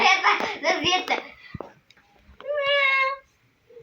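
A child imitates a cat's meow with a clear, drawn-out, high-pitched vocal meow near the end, after a few seconds of excited children's voices and giggling nearby.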